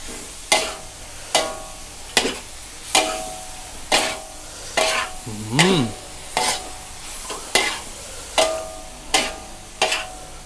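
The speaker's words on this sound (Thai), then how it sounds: "ผัดเลยครับ" Squid with holy basil and sweet basil leaves stir-fried over high heat, a regular rhythm of about a dozen sharp scrapes and clanks of a spatula against the pan over a constant sizzle, close and loud.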